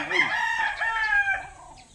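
Hens and chickens on a small farm cluck and crow together, a close, busy chorus of overlapping calls with no voices.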